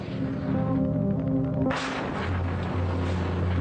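An Excalibur GPS-guided artillery shell is fired from a cannon: a loud sudden blast cuts through a steady droning hum and leaves a deep, lingering rumble.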